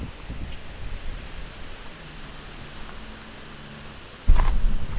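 Wind rising on a steep gravel-and-stairs mountain hiking trail at Picacho Peak, a soft steady rush throughout, with a sudden louder gust or buffet near the end.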